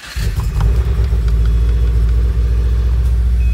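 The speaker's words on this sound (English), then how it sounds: "I am hearing a very nice exhaust there, as you can tell." A 2013 Subaru Impreza with an aftermarket exhaust starts up close by, the engine catching almost at once and settling into a loud, deep, steady idle rumble with no voices over it.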